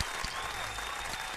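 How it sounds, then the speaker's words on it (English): Studio audience clapping for producer Mike Will during an interview show, a steady close burst of applause filling the whole moment without pause. "Clap it up for Mike."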